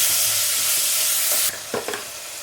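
Ginger garlic paste with mint and coriander sizzles loudly in a pan with fried chillies, a close, steady hiss that drops off midway, followed by a few scraping stirs.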